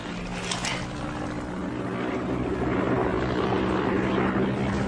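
A propeller plane drones overhead, a steady, loud engine hum that swells slightly as it passes, continuous throughout with no talk.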